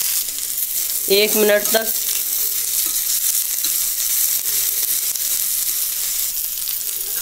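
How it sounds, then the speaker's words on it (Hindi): Chopped capsicum frying lightly in a pan after browned onions, a steady close sizzle with a brief spoken phrase partway through. "अब इसमें डालेंगे कटी हुई शिमला मिर्च। अब इसको हल्का फ्राई करेंगे"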